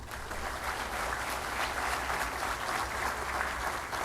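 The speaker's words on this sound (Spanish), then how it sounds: "Recibámoslo con un fuerte aplauso" An audience at an international welders' conference bursts into applause, a dense, even roar of many hands clapping that holds steady and loud throughout without a break.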